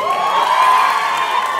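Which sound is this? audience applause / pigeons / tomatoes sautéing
audience applause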